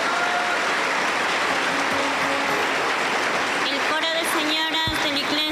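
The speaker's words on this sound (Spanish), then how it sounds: "Recibimos con fuerte aplauso para el Señor Jesús." Applause from a Pentecostal church congregation in Huancayo for a women's choir at an anniversary campaign service, a steady broadband roar of clapping throughout, with voices and tonal sounds rising over it toward the end.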